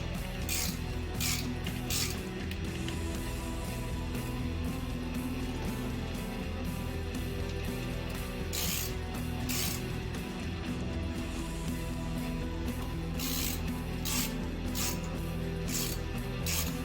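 A ratchet cranks on a Magnum Hemi engine during a cam and head swap, a steady run of clicks repeating beneath constant loud background noise.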